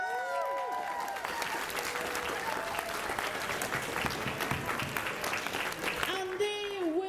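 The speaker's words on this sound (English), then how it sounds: "can we give them a round of applause?" Sustained audience applause fills the hall at a comic con cosplay masquerade, a dense continuous patter of many hands with crowd noise, while a voice speaks over the amplified PA at the start and end.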